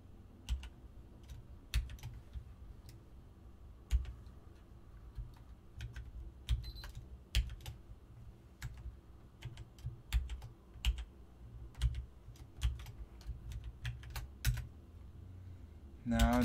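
Typing on a computer keyboard to log in as root, close and fairly quiet, with irregular clicks and brief bursts of keystrokes throughout.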